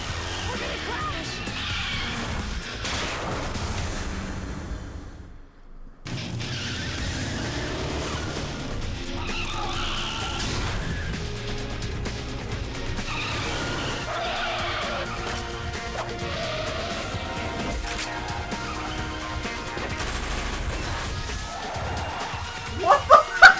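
In the Metal Gear Solid: The Twin Snakes video game, a vehicle skids and crashes amid dense, loud game audio: rumbling engine, screeching and impacts, a brief drop to near silence, then sharp bangs at the end, with voices mixed in.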